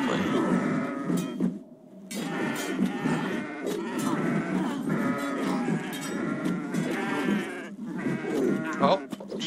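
Goats bleat and call repeatedly in the Kenshi video game, the animal cries loud and close over a dense, busy game soundscape with brief gaps.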